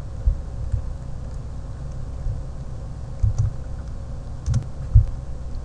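Keys tapped on a computer keyboard in a few short, quiet clusters over a low background hum, with no talk.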